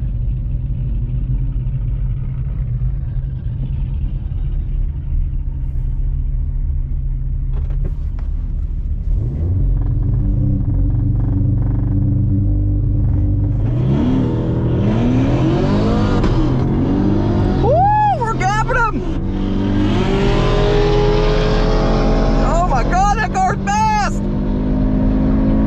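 Cars racing at a half-mile event against a Lamborghini Gallardo: a low idling rumble builds into hard acceleration, with rising engine whines sweeping up through gear changes near the end, over background crowd chatter.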